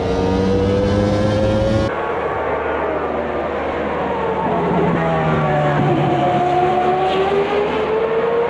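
Race car engine held at full throttle out of a corner at Road America in a racing video game, a loud sustained drone with shifting pitch after an abrupt gear change, continuous and close with no talk.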